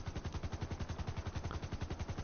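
A vehicle-mounted machine gun in GTA Online fires a rapid, evenly spaced burst of about two seconds. The shots are loud, close and uninterrupted, with no voices.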